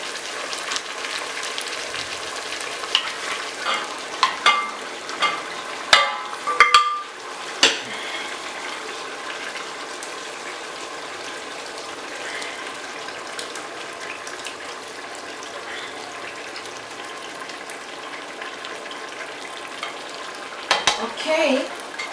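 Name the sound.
fish cooking in spicy black stew, stirring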